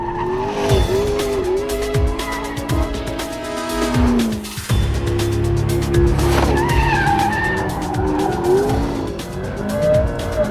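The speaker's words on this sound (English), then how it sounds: "How can you not enjoy power sliding this car?" A McLaren P1 power slides around a test track, its engine revving hard and falling through shifts while the tires squeal in long, loud skids, close and continuous with no talking.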